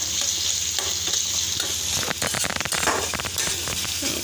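Spice paste frying in a pan while being stirred and softened toward a light brown, a close crackling sizzle with clattering scrapes of the stirring utensil in the second half.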